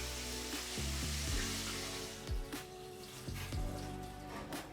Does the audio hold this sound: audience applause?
no